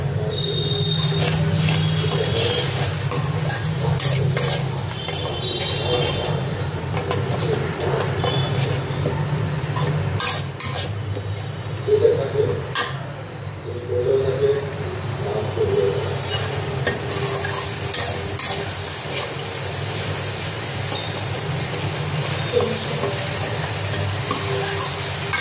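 A ginger, garlic and green chilli paste sizzles and fries in a pan while being stirred, a steady crackle with occasional scraping and clatter.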